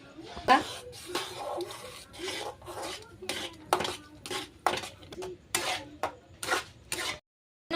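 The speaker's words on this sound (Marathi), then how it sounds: "आपण आता त्याच्यामध्ये टाकू हे बेसन आणि बेसन टाकताना आपल्याला असं हलवत राहायचं आहे कारण गाठी होणार नाही" Besan being stirred into boiling water in a pot for pithla, a spoon scraping and rasping against the metal in a steady run of strokes, with a pause at the end.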